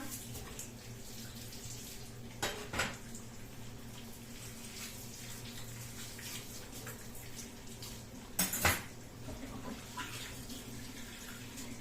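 Tap water runs steadily into a kitchen sink while dishes are washed, a soft constant hiss broken twice by short louder splashes and clatters, with no talk.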